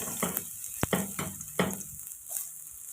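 Onion and garlic sizzle and fry in a hot pan, a steady close hiss broken by a few sharp clinks and stirring scrapes, with no one talking.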